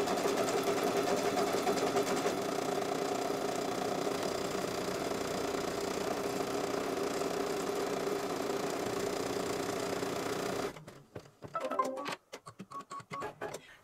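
An embroidery machine with a 75/11 organ needle and 90-weight bobbin thread stitches in a fast, even mechanical rattle for about ten seconds, then stops, leaving a few scattered clicks and handling noises.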